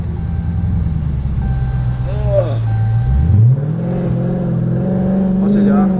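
A modified Dodge Scat Pack's exhaust rumbles up close, then rises in a revving surge and holds a louder, higher drone, with a voice talking over it.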